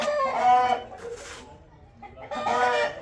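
A rooster on a farm crows and clucks close by in loud, drawn-out bursts, two main calls separated by a short quieter pause, with no talking over them.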